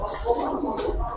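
Giribaz pigeons of Beji blood lineage coo softly at close range in short repeated notes, mixed with handling noise and low background chatter.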